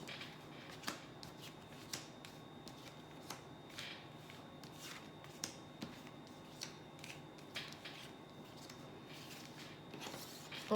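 A deck of tarot cards is shuffled up close, with regular crisp riffling bursts and soft card slaps repeating about once a second, quiet and with no voices over them.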